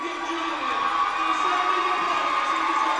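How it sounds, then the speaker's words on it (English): A basketball crowd cheers and claps continuously, a steady wash of applause and whoops filling an indoor gym, fairly loud and sustained throughout. "Getting a nice round of applause as the Lovington faithful on their feet to appreciate that."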